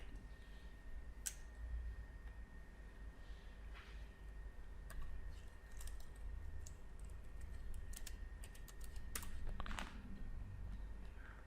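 Keyboard typing while entering a drawing name in AutoCAD 2020: scattered, quiet key clicks in short irregular bursts over a steady background hum, with no one speaking.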